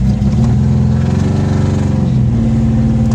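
An old VAZ-2101 car engine starts and runs with a rough, throbbing idle and climbs slightly as it revs, loud and close with no talking.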